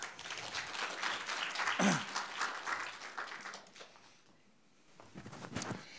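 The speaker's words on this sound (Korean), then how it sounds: "큰 박수 부탁드립니다." Clapping from an audience at a university innovation results-sharing conference as a presenter is introduced, moderate applause that fades out midway before a brief return, with some rustling.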